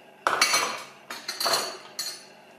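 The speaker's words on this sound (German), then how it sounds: "Ich glaube, das zerkleinere ich nochmal." A Thermomix blade chopping a chili pepper, with bursts of sharp clattering and rattling against the bowl in several short pulses, close and fairly loud, with no talk.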